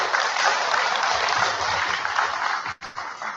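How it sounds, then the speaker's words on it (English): Loud, dense applause from a gala audience at the 2015 annual meeting of a Chinese American professors and scholars association, sustained throughout and then briefly dropping away before picking up again at the end. "another round of applause to Julie"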